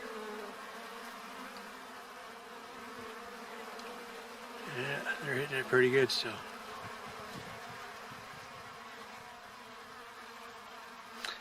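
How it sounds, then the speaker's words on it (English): Bees swarm around a backyard water source, a steady close-up insect buzz that swells louder for a moment midway before settling back; someone speaks briefly over it. "I didn't know how many bees there really was around here. But once they found this as a water place, they are on it."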